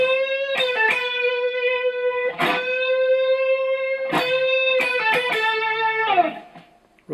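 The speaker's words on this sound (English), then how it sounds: "And you'll hear a rotary effect clicked on to measure 77." Sustained electric guitar notes with a gritty overdriven tone and a rotary effect, ringing out in long held chords separated by quick strummed attacks, with a swirling, wavering quality.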